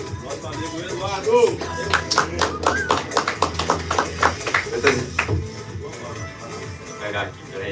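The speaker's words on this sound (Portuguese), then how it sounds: "salva de palmas" Applause from an audience at a church gathering, a burst of handclaps with a rhythmic, tapping quality that lasts several seconds, with voices mixed in.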